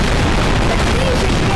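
Loud, continuous booming explosion in the Garry's Mod video game, set inside a big lava volcano, a dense sustained roar filling the whole stretch with no pause.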